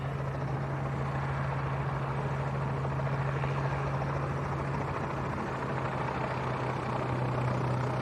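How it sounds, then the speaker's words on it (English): An aircraft taxis in after arriving at Leeds East Airport, heard as a steady engine and propeller drone with a constant low hum that stays even and fairly close throughout, with no talk. "Another aircraft that's just arrived."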